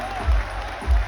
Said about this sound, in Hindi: यार तालियां बजाओ अहमद सईद के लिए